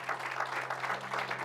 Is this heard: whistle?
no